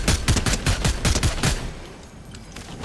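Rapid bursts of gunfire ring out in a battle royale video game, dense repeated shots for about a second and a half before fading to quieter game ambience, with no voices over them.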